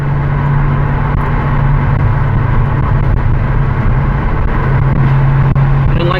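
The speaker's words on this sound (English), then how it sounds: "So that's a Ferrari California. Nice sound, easy to drive." A 2010 Ferrari California on a test ride, its engine a constant low drone heard from inside the car, loud and steady with road noise mixed in throughout.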